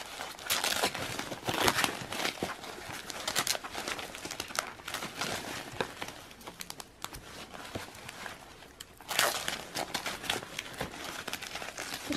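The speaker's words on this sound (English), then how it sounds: "there's tape on these, which is why they're hard to get off" Crinkly crackling and ripping of tape being peeled from a doll box, in several irregular bursts, close up with no voices.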